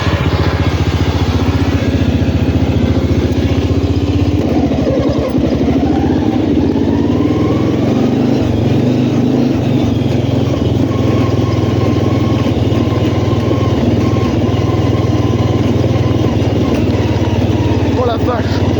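A Yamaha VMAX motorcycle engine runs loud and close after a pulley swap, a steady throbbing idle that shifts in pitch partway through as it is revved, with a voice talking over it.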